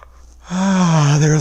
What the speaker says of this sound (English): There's my yawn to get things going.